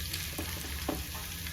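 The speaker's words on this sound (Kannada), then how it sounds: "ಈಗ ಇದಕ್ಕೆ ಸಾಸಿವೆ, ಚಟಪಟ ಅಂತು" Mustard seeds and garlic spluttering in hot oil for a tempering, a soft, steady sizzle with a few faint pops and light stirring taps, fairly quiet and with no talking.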